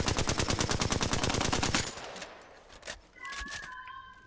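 Apex Legends automatic weapon fired without a barrel stabilizer: a loud, rapid, steady stream of shots for about two seconds, followed by quieter game sounds and faint tones.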